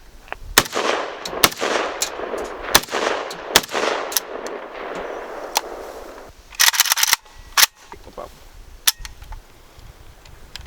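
Rifle gunshots from a Type 56 AK-pattern rifle at an outdoor range, a string of loud, sharp cracks, some closely spaced and others isolated, each trailed by a brief echo, with no talking.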